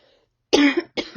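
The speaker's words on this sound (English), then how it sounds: "I was having a moment that I needed to cough and it was interrupting the recording" A single sharp cough followed moments later by a second, shorter cough, close and fairly loud in an indoor room after a brief quiet pause.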